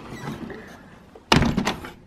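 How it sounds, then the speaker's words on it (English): A door is pushed shut on a chilly evening, giving one solid close-up thunk followed by a short rattling settle, after a stretch of quiet room tone. "Let's shut the door."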